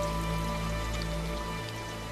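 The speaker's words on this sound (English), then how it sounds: "The surging river is fueled by one of the most extreme downpours ever experienced in Britain." Heavy rain pours down during one of Britain's most extreme downpours, a dense, even hiss of falling water that stays steady and close for the whole stretch, with no voices.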